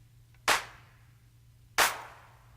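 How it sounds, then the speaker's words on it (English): Two crisp, sharp clap samples in a film score beat land about a second apart over a faint low hum, each with a short bright tail. "Then it goes into the claps there."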